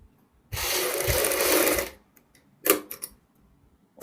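A sewing machine stitches lace around a curved blouse back neckline in a steady loud burst of about a second and a half, then quiet handling clicks and short rustles follow.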